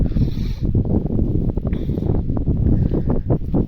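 Strong gusty wind buffeting the microphone outdoors in a soybean field, a loud continuous roar with rushing surges and rustling.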